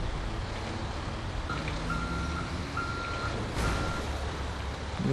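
Truck reversing beeps in GTA V: evenly spaced electronic tones repeat three or four times over steady engine rumble and background traffic noise, with no speech.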